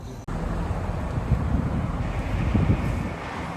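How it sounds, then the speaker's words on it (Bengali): Wind buffets the microphone in a continuous low rumbling roar, close and fairly loud, with no voices. "বাইরে বাতাস"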